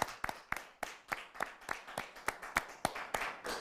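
Sparse, slow clapping from a small studio audience, about a dozen distinct claps in a steady uneven rhythm, fairly close and moderately loud, with no voices over them.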